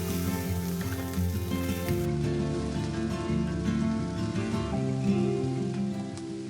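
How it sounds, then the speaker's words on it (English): Carrots and broccolini sautéing in a hot pan for fried rice, a steady close sizzle and crackle that runs continuously with no talking. "carrots, and broccolini. Saute for 3 to 4 minutes."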